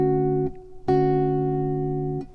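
Fingerstyle acoustic guitar: a few plucked chords with the top note voiced louder than the rest, each ringing and sustaining before the next pluck, clear and alone.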